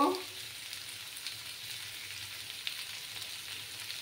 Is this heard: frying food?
yes